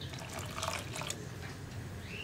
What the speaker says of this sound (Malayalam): കുറച്ചുകൂടി വെള്ളം ചേർക്കുന്നുണ്ട് കേട്ടോ.